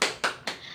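A school class clapping the 'tepuk pulang' rhythm together: three sharp group claps in quick succession, close and loud, with no talk over them.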